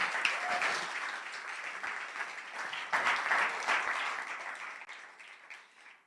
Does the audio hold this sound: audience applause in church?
yes